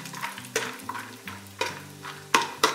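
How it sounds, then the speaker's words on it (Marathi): Halved almonds fry in hot oil for a mutton biryani, a soft steady sizzle broken by several sharp spoon scrapes and stirs against the pan at uneven intervals, close and quiet. "आता मी यात बदाम तळून घेणार आहे."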